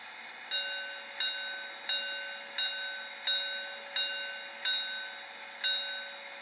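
A model BR 78 (T18) steam locomotive's small bell rings eight times at an even, unhurried pace, each strike bright and decaying quickly over a faint steady hum.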